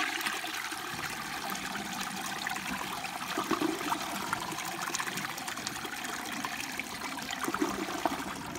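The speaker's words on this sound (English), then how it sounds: "the tank is full, so here's a flush." A Gerber Aquasaver round front-flushing toilet flushes, a steady rushing and trickling of water into the bowl lasting several seconds, close and moderately loud, with no voices.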